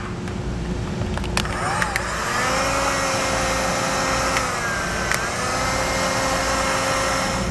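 A heat gun blows steadily on heat-shrink tubing over a crimped ground terminal on Hopkins trailer wiring, giving a constant close-up whooshing roar with a few faint clicks and no speech.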